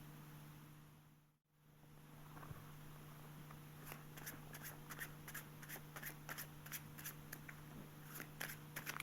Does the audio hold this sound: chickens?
no